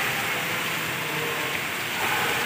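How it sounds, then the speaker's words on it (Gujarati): Torrential rain over flooded farmland in Bilkha, Junagadh district, Gujarat, heard as an even, broad wash of noise that holds steady throughout with no voices. "જો ભાઈ વરસાદ કેટલો"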